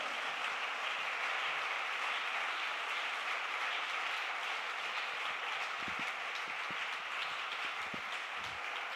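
Sustained, fairly distant applause from a congregation during an evangelical church service, an even rain-like wash of clapping without talk, with a few low thumps near the end.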